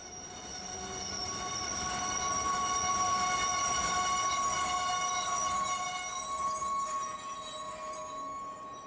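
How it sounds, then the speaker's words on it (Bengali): A train pulls into a station in a Bengali audio story, a rising rumble with sustained metallic wheel squeals that swells loudly in the middle and then eases, with no voices. "ট্রেন এসে হাজির হলো সশব্দে।"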